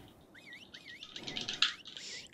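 Bird chirps and tweets from the video game Ark, a series of short warbling calls, fairly faint and rising in intensity midway, with no talk over them.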